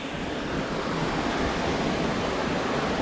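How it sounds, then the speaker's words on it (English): A large creek on the Turkey Path Trail rushes steadily, its broad, dense water noise loud and unbroken throughout with no voices. "this is probably the largest, or one of the larger creeks I've ever seen."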